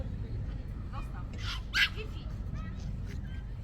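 Dogs playing outdoors give a few short yips and barks near the middle, moderately close, over steady background noise and faint people's voices.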